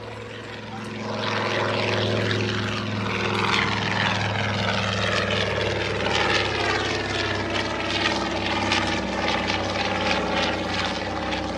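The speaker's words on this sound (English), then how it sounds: "Mitsubishi A6M0." A Mitsubishi A6M Zero propeller fighter flying at an airshow in Brunswick, Maine, its radial engine droning loudly and steadily as it passes, with no voices over it.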